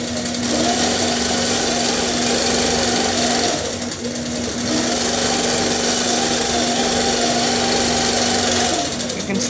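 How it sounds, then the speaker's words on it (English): A computerized 2013 Millie longarm quilting machine runs along a Bliss rail system, giving off a steady mechanical whirr with a constant tonal hum that dips briefly midway, loud and close throughout. "There's some encoders that run the machine, tell it digitally where to move,"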